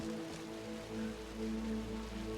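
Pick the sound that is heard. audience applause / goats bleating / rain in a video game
rain in a video game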